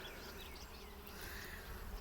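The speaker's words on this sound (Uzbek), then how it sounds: "ari asal yig'adigan" A honey bee buzzes around a turnip flower outdoors, making a continuous close hum that wavers in pitch as it moves, with no talk.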